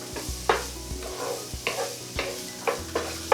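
Onions and garlic sauté in a pan, a soft steady sizzle broken by repeated scraping strokes of stirring about every half second, close and alone with no talk.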